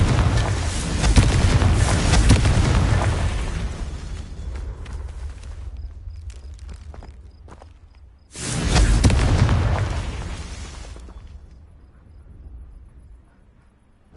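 Confringo blasting spell explosions in the video game Hogwarts Legacy, two heavy booming blasts with a deep rumble, each fading over several seconds, the second striking midway.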